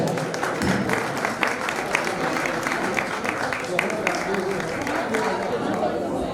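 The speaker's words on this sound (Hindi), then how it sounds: "बेनाला परिवार के लिए जोरदार ताली बजाएं।" Audience applauding the Benala family at a foundation-stone ceremony for a Jain temple, a burst of scattered hand clapping from a crowd mixed with chatter and voices.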